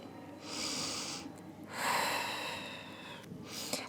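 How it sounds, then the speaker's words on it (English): Deep breaths taken during a beginner Pilates stretch, a long airy inhale followed by a fuller exhale, close and alone with no talking. "And a nice deep breath."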